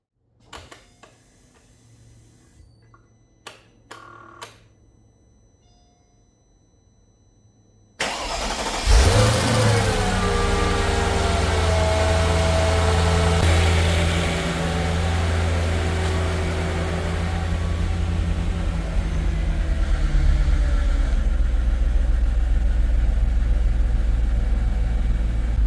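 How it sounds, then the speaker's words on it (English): A few small clicks, then a Mercedes R230 SL500 engine cranks and catches with a roar, settling into a loud, steady idle that carries on to the end. "let's go ahead and start up the engine for the first time and see how it goes"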